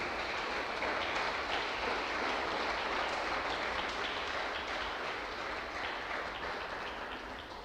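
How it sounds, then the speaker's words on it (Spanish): Church congregation applause during a Spanish-language sermon, a steady dense roar of many hands clapping that fades slightly toward the end, with no voice over it. "Dale un aplauso a Cristo."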